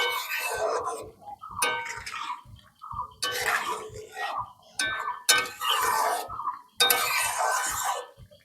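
Fish gets stirred into a bubbling pot of drumstick curry in a home kitchen, with bursts of scraping, clinking and sizzling separated by short quiet gaps.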